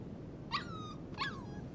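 A puppy gives two short whimpers, each a rising then falling whine, close by over faint room noise.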